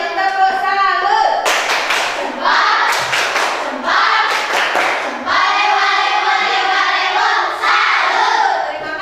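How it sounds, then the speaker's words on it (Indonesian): A primary school class gives the 'tepuk salut' salute clap, children chanting in unison between crisp clusters of group hand claps in a set rhythm, close and loud, finishing with a drawn-out chanted call. "Kita beri tepuk salut"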